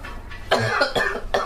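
A person coughs several times in quick succession, harsh and close, in short irregular bursts.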